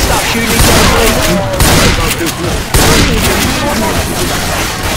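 Loud, sustained gunfire in Left 4 Dead 2, heavy overlapping shots and booms filling the whole stretch with brief dips, mixed with game noise and some voices.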